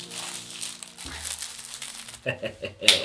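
Purple wrapping paper crinkles and rustles as it is unwrapped from a Star Wars mystery box, with louder crumpling near the end and talk underneath.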